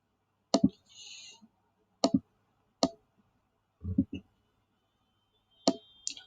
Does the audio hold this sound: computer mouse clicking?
yes